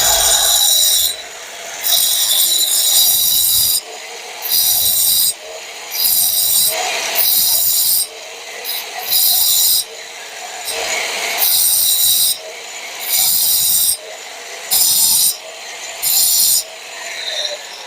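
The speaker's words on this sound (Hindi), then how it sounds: "एंगल ग्राइंडर में ये ब्लेड डाल रखी है" An angle grinder whines in loud, repeated bursts of a few seconds each, cutting on and off while it sharpens a thresher blade, with brief quiet gaps between passes.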